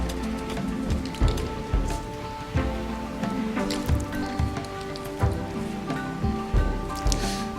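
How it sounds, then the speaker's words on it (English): Rain falls steadily in the video game RimWorld, a soft patter with scattered drops mixed under sustained tonal game music that continues throughout. "But it is raining now."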